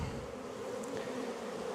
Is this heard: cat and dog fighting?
no